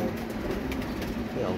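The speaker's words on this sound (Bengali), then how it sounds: "দেখাতে গেলে অনেক কবুতর, প্রচুর কবুতর" Soft, low pigeon cooing at a pigeon farm housing over 200 birds, a few muted coos close by across a short moment.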